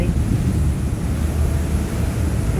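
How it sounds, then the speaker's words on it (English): Rescue helicopter flying over the ship channel near Redfish Island off Galveston, a steady broadband rotor and engine rumble heard from a nearby boat, continuous and fairly loud throughout. "And now this helicopter"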